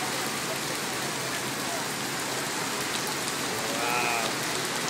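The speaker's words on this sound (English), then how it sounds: "Rain all day. Non-stop." Heavy rain pours steadily onto a New York City street, a dense, loud, unbroken hiss of water hitting pavement and puddles with no pauses.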